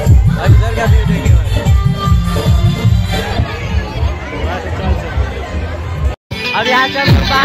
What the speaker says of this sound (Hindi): आगे आ चुके हैं हम लोग, और इधर का भीड़ देखिए।